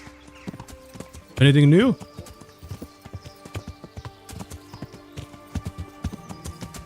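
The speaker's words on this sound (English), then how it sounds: "Why is the horse so fancy?" Horse hooves clip-clop at a steady walking rhythm in the video game Kingdom Come Deliverance, with a brief loud horse snort or whinny early on and a voice speaking briefly over the hoofbeats.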